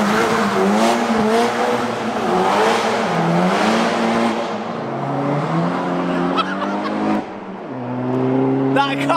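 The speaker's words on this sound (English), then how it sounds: "That car sounds unbelievable." A loud, modified SEAT Leon Cupra engine revs and shifts through gears on a track in heavy rain, pitch climbing and dropping repeatedly, with tire noise and a voice briefly heard.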